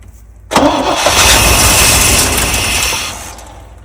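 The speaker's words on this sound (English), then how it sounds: "It turned over." A 1987 Chevy K5 Blazer that sat unused for 22 years cranks over and fires, bursting into a loud, rough engine roar that holds steady and then settles slightly, very close and with no talk.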